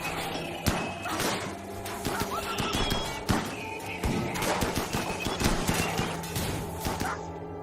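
Gunfire in a Rimworld video game battle, many sharp shots and rattling bursts scattered irregularly over a busy mix of thuds and impacts, fairly loud throughout.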